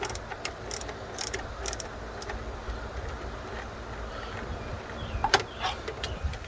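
A hand ratchet clicks in short bursts while loosening the intake manifold bolts on an Audi 3.2 FSI engine, close-up metallic ratcheting with pauses and small tool knocks between runs.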